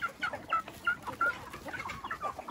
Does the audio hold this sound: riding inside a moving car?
no